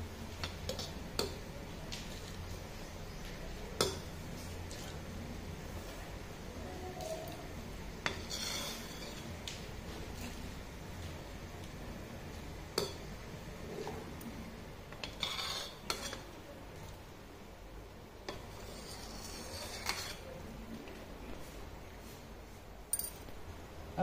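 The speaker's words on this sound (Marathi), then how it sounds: "मी हा फेस काढून घेते" A spoon scrapes and taps against a pot of boiling lentils while foam is skimmed off, giving faint, irregular clinks and ticks spaced a few seconds apart over a quiet simmer.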